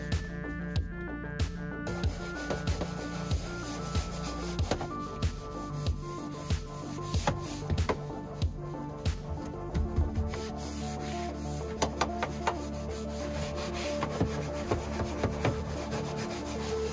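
Brush scrubbing dust from the interior of an abandoned Renault Twingo, a steady, close rubbing and scraping with rhythmic strokes over a persistent tonal background hum, no voices.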